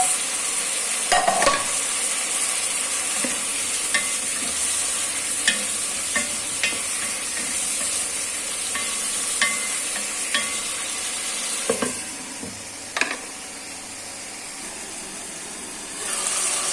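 Green banana with spices is stirred and sautéed in a pan, a continuous close sizzle of frying broken by repeated scraping clicks of a utensil against the pan throughout.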